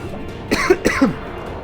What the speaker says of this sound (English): Oh, this cough is going to kill me.